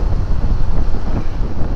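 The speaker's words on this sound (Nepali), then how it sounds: "हावा हुरी चलो" Strong wind blows hard across the microphone, a continuous loud rumbling roar with buffeting gusts and no voices.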